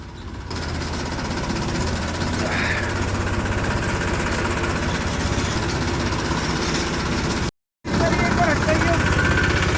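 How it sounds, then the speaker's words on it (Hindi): A tractor engine runs in a steady, low, rumbling drone, close and continuous apart from one brief dropout. People talk over the engine noise. "दोस्तों 15 लीटर तेल में तो होश आया ट्रैक्टर को, सुई जरा सी उठी।"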